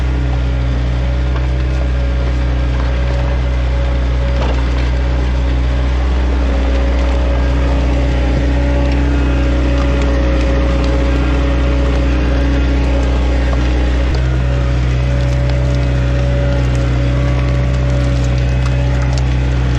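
A skid steer fitted with steel over-the-tire tracks runs with a loud, steady engine drone and low mechanical rumble, with faint clanking from the tracks throughout and no voices.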